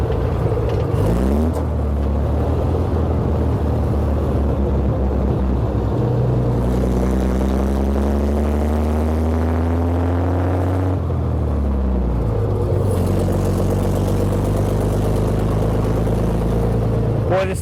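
An avgas-fuelled truck engine runs steadily after a downshift, its note climbing with the revs through two gear pulls, loud and close throughout with no talk.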